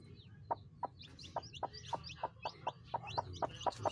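A brooding hen sitting on fifteen eggs as they hatch, giving a steady run of short, rhythmic clucks, close and fairly quiet, with faint chick peeps above.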